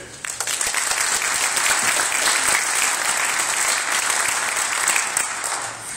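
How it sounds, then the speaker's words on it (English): An audience applauds to welcome a performer to a Christmas storytelling and poetry show, a warm sustained round of clapping that swells quickly and stays full before tapering slightly. "Please, with a warm round of applause, welcome Craven Moorhead."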